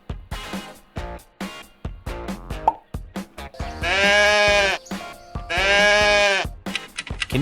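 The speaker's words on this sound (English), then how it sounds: "Goat." Goat bleating in two loud, sustained, wavering calls, each lasting under a second, preceded by a run of short plopping and clicking sounds, with no talking.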